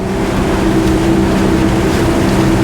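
A 2022 Regal 38 SAV day boat with about 900 horsepower runs through waves, its engines giving a loud, steady droning hum over continuous rushing water and wind, with no talking.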